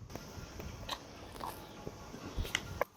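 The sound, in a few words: chewing fish cake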